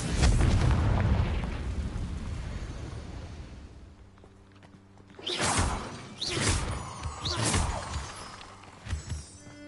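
A Confringo blasting spell from Hogwarts Legacy goes off: a deep rumbling boom that fades, then a cluster of sharp bursts and whooshes, with a spoken voice among them.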